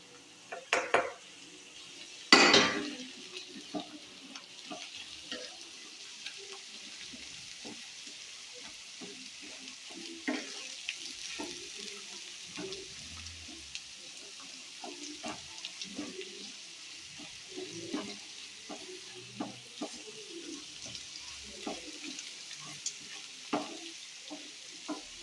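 Dried onion goes into a pan for a Mehsana-style tuver totha dish and fries with a soft, steady sizzle. A spoon clanks sharply against the pan early on, followed by light stirring scrapes throughout.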